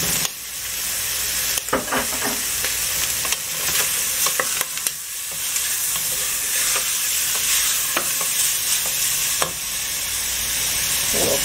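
Garlic and two bay leaves fry and sizzle steadily in a pot, a continuous close hiss broken by occasional clinks and scrapes of stirring.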